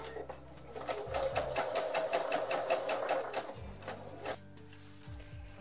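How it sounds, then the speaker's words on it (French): Sewing machine stitching a fabric handle onto a bag about 1 cm from the edge, a fast steady chatter of needle strokes that runs several seconds and then slows and stops, close and clear. "je vais piquer tout cela à 1 cm"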